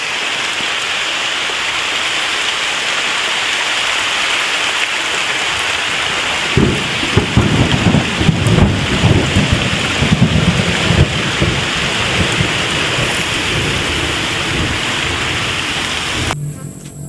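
A rainstorm with thunder during a crab-hunting outing in the Philippines: steady, loud rain hiss throughout, with a heavier rumbling swell of thunder and stronger rain from the middle onward.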